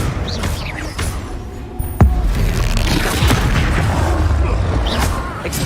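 Confringo spell blast in the Hogwarts Legacy video game: a deep booming explosion hits suddenly, followed by sustained rumbling and crackling fire-like noise.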